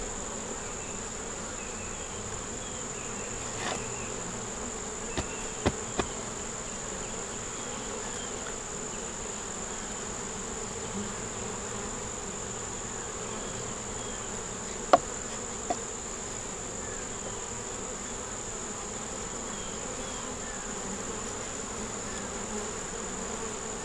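Honey bees buzz around a hive in a steady, faint drone with a persistent high whine above it, broken by a few sharp clicks and taps.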